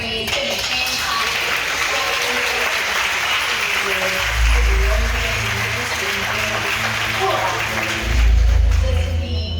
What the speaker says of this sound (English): we just give God 2 seconds of praise. Give Him hand clap.